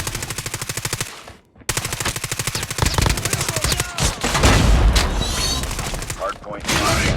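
Call of Duty Mobile gunfire during a multiplayer hardpoint match: loud, rapid machine-gun bursts repeat in close rhythm, broken by a short pause, with in-game voice callouts mixed in.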